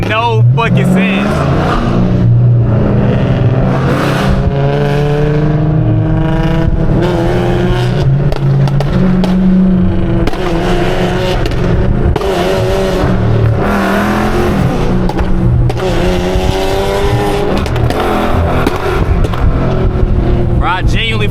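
Loud engines from a Scat Pack and a flame-tuned G37 rev and roar downtown in CLT, mixed with steady music and voices talking over the din throughout.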